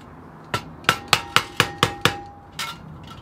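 A hammer taps metal during tinsmithing, eight sharp ringing strikes in an even quick run followed by one softer hit, close and clear with no speech.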